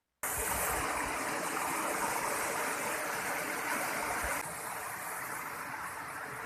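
Small waterfalls about 2 to 3 meters high and a stream at Janda Beranak Tiga in South Kalimantan, Borneo, make a continuous rushing wash of water, steady and fairly close with no voices.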